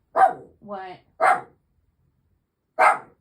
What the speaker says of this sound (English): Oh my gosh, she's not gonna stop barking.